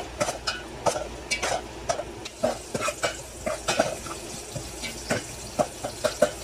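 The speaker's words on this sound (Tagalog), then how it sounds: "igisa-gisa lang natin itong ating bawang sibuyas" Garlic and onion sautéing in a pan in a cabin house kitchen in Shoaiba, Saudi Arabia, a soft sizzle broken by rapid rhythmic spatula scrapes and clinks, close and moderately loud, with no speech.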